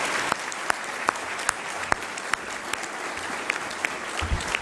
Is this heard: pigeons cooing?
no